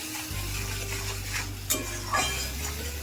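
Spices with turmeric and salt frying and being stirred in a pan for a mustard-poppy paste dish with small fish: a low, steady sizzle with occasional soft scrapes and clinks of the spoon against the pan, close up and with no talk.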